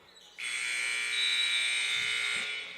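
A loud electronic buzzer sounds at the end of a quarter in a high school basketball game between Thurston and West Salem, one sustained blare of about two seconds over faint crowd noise.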